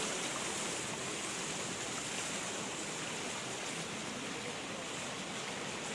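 Warm thermal spring water at Pamukkale flowing steadily over calcium terraces, with a constant close, dense rushing hiss and no breaks.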